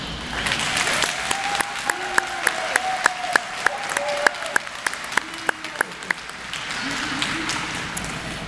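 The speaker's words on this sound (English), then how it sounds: "Please offer a round of applause to our GED earners tonight." An audience at an adult education GED graduation ceremony applauds its graduates with steady, moderately loud clapping across the hall, while faint tones or voices sound underneath.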